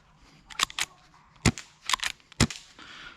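Sharp snapping shots from a KCO2 Rogue Worx lever-action airsoft sniper rifle: about six quick cracks in uneven pairs, near and fairly loud, separated by short quiet gaps.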